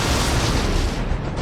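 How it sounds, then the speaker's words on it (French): A deep, roaring explosion sound effect in a French fantasy tale about a dragon fills the whole moment, loud, dense and rumbling without a break, with no voices over it. "Dans le jardin, Alice et Eden ne savaient pas à quoi s'attendre quand elles entendaient des explosions."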